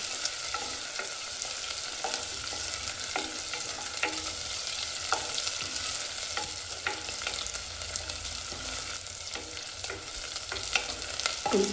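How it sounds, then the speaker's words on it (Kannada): Crushed garlic frying in oil and ghee, a continuous close sizzle with frequent stirring scrapes of a utensil against the pan, no voice. "ಇದು ಸ್ವಲ್ಪ ಎಣ್ಣೆ ಮತ್ತು ತುಪ್ಪದಲ್ಲಿ ಫ್ರೈ ಆಗಲಿ."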